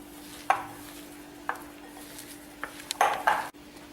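A spoon clinks against a bowl while mashed potato is worked into a paste, with a few separate taps followed by a quick cluster of scraping knocks, close and fairly quiet.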